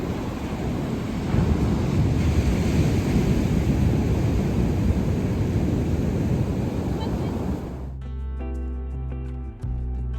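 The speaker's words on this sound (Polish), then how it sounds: "I co któraś fala to podchodzi naprawdę daleko" Rough sea in a storm sends waves rushing up the beach at a Turkish seaside resort, a loud broadband roar with heavy wind buffeting the microphone, cutting off abruptly near the end.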